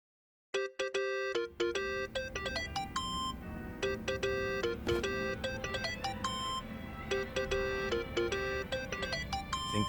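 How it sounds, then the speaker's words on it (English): A mobile phone ringtone rings in the video game Yakuza: Like A Dragon, a bright, repeating electronic melody of quick tonal beeps that starts abruptly after a short silence and keeps looping, clear and alone. "Think that's your phone, man."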